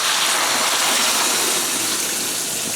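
Water pours steadily into a soup pot of yellow split peas and buttercup squash, a loud continuous gushing splash close by with no talking.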